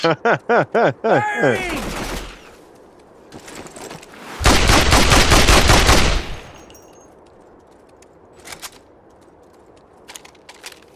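Rapid bursts of gunfire crack in a video game, followed by a long, loud roaring blast of RPG fire lasting a couple of seconds, then a few scattered fainter shots fading out.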